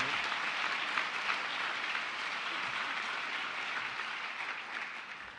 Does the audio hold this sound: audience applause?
yes